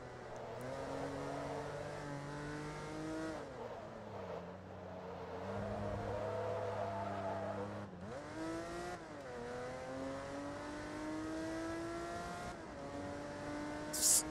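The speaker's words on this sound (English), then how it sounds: "Such a beautiful engine," A TVR Tuscan S engine in the racing game Forza Motorsport 2 revs and pulls through the gears, its pitch climbing, dropping at shifts and climbing again, steady and fairly loud with no talking.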